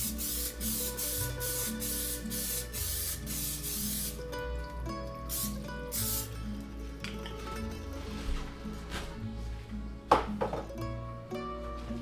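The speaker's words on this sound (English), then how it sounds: "Go ahead and spray your pan, folks." Non-stick cooking spray hisses onto a pan in a series of short bursts, faint and close, over a steady background of music.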